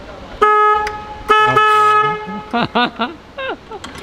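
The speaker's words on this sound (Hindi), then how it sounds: "रूट्स का हॉर्न" A loud aftermarket horn on a BMW 1250 GS motorcycle honks several times, two long blasts then a quick series of short bright toots, close by.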